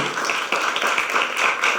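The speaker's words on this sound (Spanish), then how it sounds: "Un aplauso, por favor, para los ponentes" Steady, dense applause from an audience at a legal session on economic competition litigation, many hands clapping continuously at close range with no speech.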